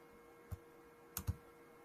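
A few soft computer keyboard keystrokes while typing text, three light clicks spaced over under two seconds, quiet and close in a still room.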